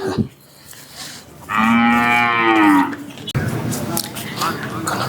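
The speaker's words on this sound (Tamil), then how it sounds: "அடுத்த மயில மாடு. அதை பாருங்க," A cow at a local cattle market lets out one long, loud moo close by, with quieter market murmur and a person speaking softly before and after it.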